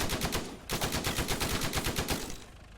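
Sustained automatic gunfire in the WWII strategy game Gates of Hell as a crew fires through a wall: dense, rapid rhythmic bursts, loud and close, with a short break near the start, then continuous fire that tails off at the end.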